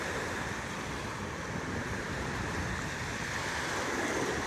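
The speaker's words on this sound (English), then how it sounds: "Let these waves come in so I can feel how cold they are." Ocean surf rolls in at Seaside Heights beach in New Jersey in November, a continuous, fairly loud wash of breaking waves with some wind noise and no voices.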